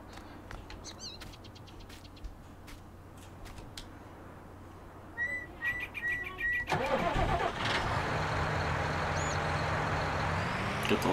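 In Farming Simulator 19 a tractor engine cranks and starts, settling into a steady mid-pitched idle after a quiet stretch with faint bird calls and clicks, with someone speaking over part of it.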